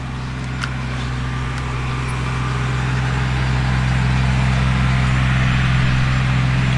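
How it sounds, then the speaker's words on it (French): A ride-on lawn mower engine runs nearby with a steady, loud low drone and a constant hum that swells slightly as it goes on, with no talk over it. "Je suis désolé pour le bruit du tracteur tondeuse"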